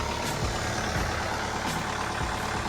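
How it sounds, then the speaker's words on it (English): A cold-started Canadian emissions-equipped diesel engine on a John Deere 5460 tractor idles with a steady low rumble, close and continuous, with faint intermittent higher noise over it. "let's see if we can get a cold start of the beautiful emissioned Canadian diesel engine"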